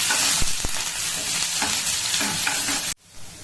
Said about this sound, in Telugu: అందులో జీలకర్ర ఆవాలు వేసుకున్న తర్వాత ఇగో ఉల్లిపాయ వేసుకోవాలి బాగా.